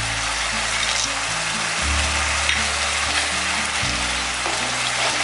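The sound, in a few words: frying taro leaves with peanuts in pan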